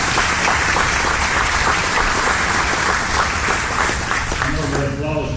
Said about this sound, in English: I know that applause was for me